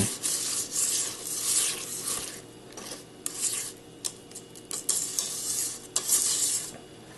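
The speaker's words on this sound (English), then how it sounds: "I've added the softened butter to the ganache, and I'm just very gently whisking it in" Softened butter is whisked gently into chocolate ganache in a bowl, producing bursts of soft, scraping, rhythmic stirring strokes that come and go, close and fairly quiet, with no voices.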